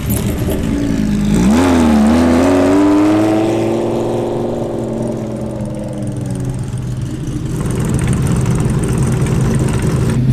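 RWB cars and a Lamborghini pull away together in a convoy in Australia, engines revving up in a loud, rising sweep, then holding a steady, close drone that swells again toward the end.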